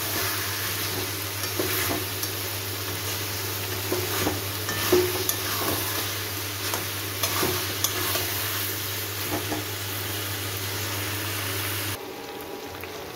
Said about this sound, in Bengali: মিডিয়াম টু হাই হিটে আমার মাংসটাকে আরও 5-7 মিনিট ধরে কষাবো